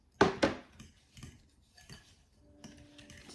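A spoon stirs butter and brown sugar in a bowl for cinnamon rolls: two sharp clinks against the bowl, then softer, scattered scraping taps, close and quiet.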